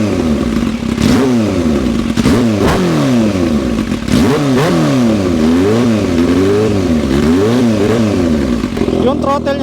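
A Kawasaki H2 motorcycle fitted with a titanium exhaust revs hard and repeatedly, each throttle blip rising and falling in a loud, close, rapid sequence of sweeping engine howls.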